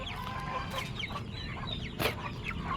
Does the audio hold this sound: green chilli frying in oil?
no